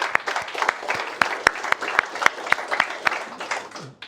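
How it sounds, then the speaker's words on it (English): A council meeting crowd applauds in memory of a recently deceased colleague, with scattered, fairly sparse claps and a few loud nearby hands standing out against softer clapping further back. "we could clap for Bill."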